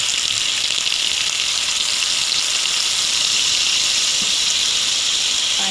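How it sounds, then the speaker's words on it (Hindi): Water hits garlic in a hot karahi and sizzles in a steady, loud, bright hiss that holds evenly throughout, with no voices over it. "गार्लिक ऐड करने के बाद इसमें मैं 1/2 कप के करीब मैं इसमें पानी ऐड करती हूँ।"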